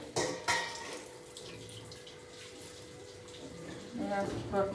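Leafy greens are washed by hand in a vessel of water, with close splashing, dripping and sloshing that grows louder toward the end.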